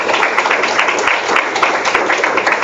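An audience at a lecture on multiscale phase change heat transfer applauds the professor, with steady, dense clapping held at an even level throughout.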